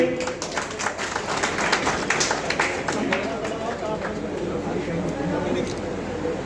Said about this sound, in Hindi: सम्मानित करके जरा ताली बजा के